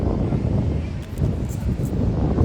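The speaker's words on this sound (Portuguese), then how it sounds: "A mãe tá preocupada com o vento" Wind blows outdoors as a loud, steady low rumble buffeting the microphone, with faint rustling on top and no speech.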